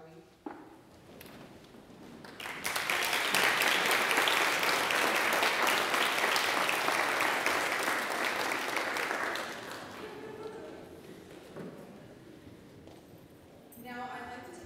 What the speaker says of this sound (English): give them a round of applause, shall we?